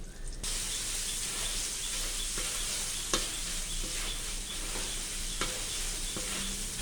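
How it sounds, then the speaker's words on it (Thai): Thai curry paste is stir-fried in a pan for a chicken curry. A steady, close sizzle runs throughout, broken by a few sharp ticks and scrapes from the stirring utensil. "ผัดให้พริกแกงหอมนะทุกคน"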